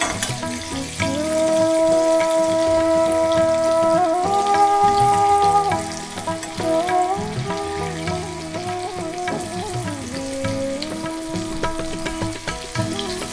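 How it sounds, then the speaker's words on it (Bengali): Potatoes frying in oil in a wok, an even crackling sizzle running the whole time beneath steady background music. "আমি অল্প অল্প করে আলু দিয়ে ভাজবো।"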